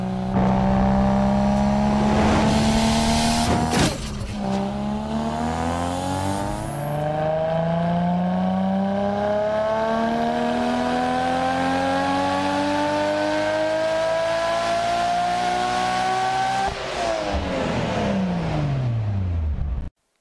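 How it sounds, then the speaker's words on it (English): A turbocharged Nissan Skyline R34 GT-R engine with a T78 turbo and Trust front pipe revs loudly and continuously, pitch climbing steadily as it accelerates, dropping sharply on a gear change, then climbing again. "here is a T78 powered R34 GTR as well"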